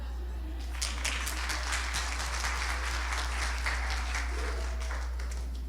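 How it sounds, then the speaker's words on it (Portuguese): A church congregation at a live service claps together in steady, sustained applause, close and even throughout with a low hum beneath. "Essas palmas são para o nosso Jesus"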